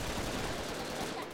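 Rapid gunfire crackles in the Brick Force video game, a dense, continuous burst of shots rattling through the whole moment, fairly close and moderately loud.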